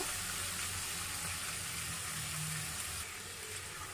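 Onion and garlic paste frying in hot oil in a pan, a steady broadband sizzle close up that holds for several seconds and eases slightly near the end, with no talking.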